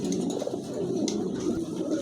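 Lahore pigeon cocks cooing in a loft, a low continuous murmuring coo from several birds that runs steadily throughout at moderate distance.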